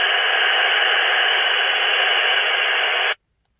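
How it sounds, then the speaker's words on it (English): Squelch hiss from a GME XRS Connect 330C UHF radio on channel 40: a loud, steady burst of white-noise static that runs for about three seconds and then cuts off abruptly into silence. "You can listen to the squelch."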